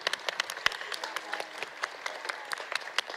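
Scattered, distinct hand claps from a modest audience at a telethon, applauding the performer Encore, with sharp individual claps standing out over a light crowd murmur.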